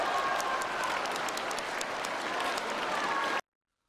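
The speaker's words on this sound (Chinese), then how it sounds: "同学们走出教室，鼓掌欢送总书记" Students file out of their classrooms at nightfall, clapping to see off President Xi Jinping as he leaves their school; dense, steady applause for about three and a half seconds, then it stops abruptly.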